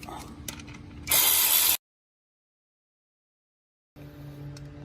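Quick ratchet clicking on a 10mm bottom pulley bolt of the alternator on a supercharged 2013 L405 Range Rover, a loud close burst under a second long amid light workshop noise, followed by a stretch of silence.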